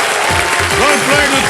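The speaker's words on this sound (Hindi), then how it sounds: "ताली बज गई, बिल्कुल सही जवाब।" A studio audience on a TV quiz show applauds a correct answer, a dense burst of clapping heard briefly with a voice speaking over it.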